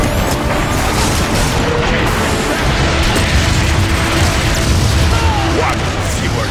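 Rocket blast in the Transformers: Fall of Cybertron video game, a dense booming explosion layered over continuous loud battle noise with mechanical clanking, sustained throughout with no quiet gaps.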